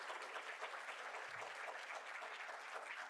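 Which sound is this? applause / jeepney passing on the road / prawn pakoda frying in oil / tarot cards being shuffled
applause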